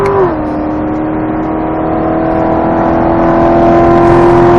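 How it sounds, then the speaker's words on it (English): A race car on the straightaway accelerates hard with a loud, sustained engine drone climbing steadily in pitch, heard from inside the car. "You can accelerate hard all the way to the cones."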